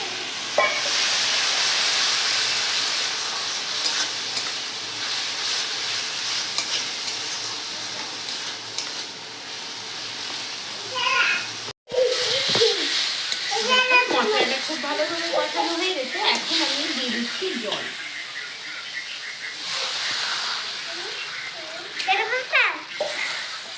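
Spice paste with cumin powder and a little water sautéing in a pan, a continuous close sizzle with bursts of hissing and stirring, and a voice speaking over the second half.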